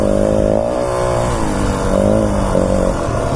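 A vehicle engine revs in a climbing, wavering drone as the clutch is feathered on an off-road ascent, loud and close with rising and falling pitch and no voices.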